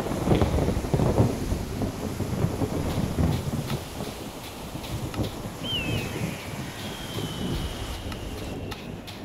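A video game thunderstorm rolls on with constant rain and wind noise, heavy rumbling thunder early on, and a faint high tone drifting through near the end.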